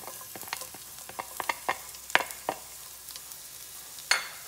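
Onion frying in a small amount of cooking oil for a home-cooked chop suey: quiet, close crackling and sizzling with sharp spits and pops, plus occasional scrapes of stirring, no talk.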